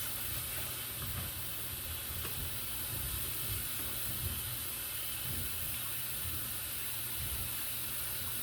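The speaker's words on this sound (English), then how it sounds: "Do a little hand washing real fast." Tap water running steadily into a kitchen sink during hand washing, a continuous close hiss and splash with no talk.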